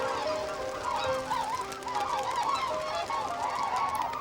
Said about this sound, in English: The capybaras scare great flocks of red-billed whistling ducks whose wing beats sound out over the swamps every day at dawn.